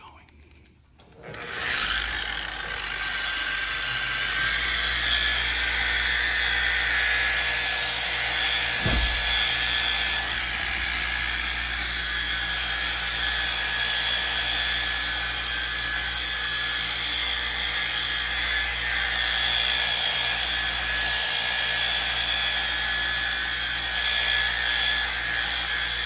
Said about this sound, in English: I have my 3-inch polisher. I'm gonna come in at a super slow setting.